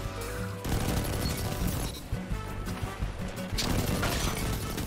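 Rapid gunfire from Destiny 2 Crucible PvP, scout rifle and other weapons cracking in dense overlapping bursts with impacts and crashes, steady and loud throughout with no talking.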